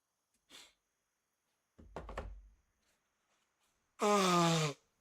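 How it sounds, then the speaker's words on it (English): A person with allergies blows their nose once, a loud, close honking burst lasting under a second, after a couple of softer sniffs and snorts in otherwise quiet surroundings. "Oh, blow my nose."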